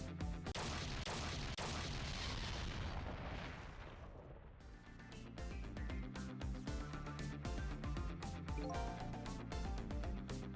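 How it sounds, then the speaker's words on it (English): A booming explosion in the video game Ghost Trick: Phantom Detective rolls out as a loud, broad roar that fades over about four seconds before game music takes over. "I think I heard an explosion somewhere."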